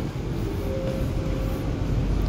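Steady low rumble inside a Dharmawangsa economy-class passenger train on the Jakarta–Surabaya run, with continuous rolling and vibration noise, no voices.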